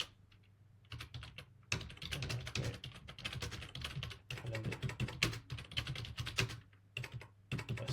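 Typing on a computer keyboard, a close, fairly quiet, irregular run of rapid key clicks with short pauses between bursts.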